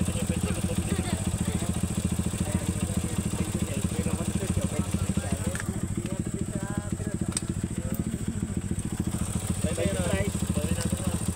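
A motorcycle engine runs steadily throughout, with a constant low throbbing rumble and a close, even idle-like rhythm, while people talk nearby over it.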